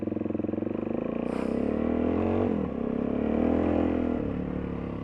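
A DRZ400 motorcycle ridden on a dirt trail under muddy conditions gives a steady, loud engine drone throughout, with a brief dip in revs midway before climbing again and a short scrape or rattle near the start.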